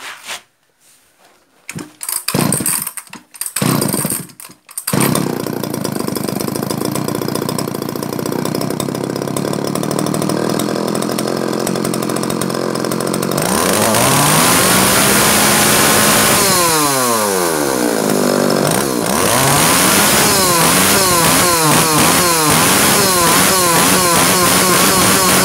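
Hitachi 340AV 34cc chainsaw, a small two-stroke engine, sputtering through a few short bursts before catching, then running loud and steady with repeated revving that rises and falls near the listener; no talking.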